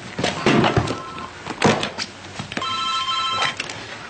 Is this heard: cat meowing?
no